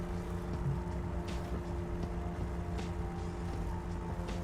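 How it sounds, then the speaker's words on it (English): An in-game Jeep engine in a truck-driving video game gives a steady, low, even drone with a faint tonal hum and no revving, running alone without talk. "I understand why people are complaining about the Jeep's engine sound."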